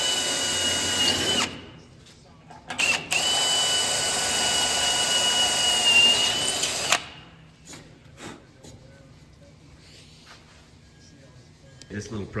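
A power drill bores through for bolts on a Jeep Rubicon, with a loud whining run of about five seconds after brief bursts, then short scattered tool noises and someone talking.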